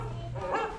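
A dog gives a short bark or yip over a steady low background hum, a single brief sound within a Magic Kingdom theme-park animatronic stage show.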